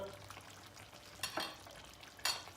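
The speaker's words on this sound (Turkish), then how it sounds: "Şöyle hafifçe bir karıştıracağız." Eggplant stew stirred in a pot on the stove, heard as two brief scraping, clinking strokes of the spoon over a low simmering hiss, fairly close and quiet.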